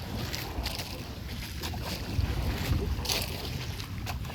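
Heavy waves slosh and thud against a boat hull amid gusting wind rumble, with low irregular thumps rising in the middle of a constant roar.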